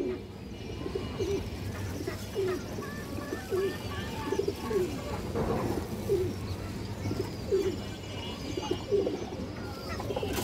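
Several pigeons coo in soft, repeated low phrases throughout, with a steady murmur of background noise and occasional faint chirps.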